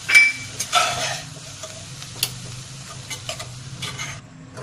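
Spoon stirring chicken samosa filling with vegetables as it fries in a pan, a steady close sizzle under repeated scraping strokes, with no one talking.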